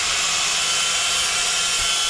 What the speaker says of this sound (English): He's just buffing some spots to weld that angle